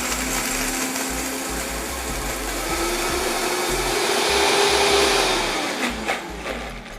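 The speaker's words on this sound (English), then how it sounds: "I'm going to start with a little bit of water and blend that up" A blender whirs loudly and continuously while blending cashews and water into cream, its motor pitch shifting slightly as the mixture thickens, then it winds down near the end.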